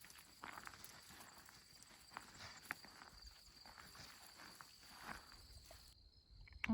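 Faint rustling footsteps along a hiking trail in Theodore Roosevelt National Park, with grasshoppers clicking and buzzing in the shrubs around them; soft, quiet and irregular, with no talk.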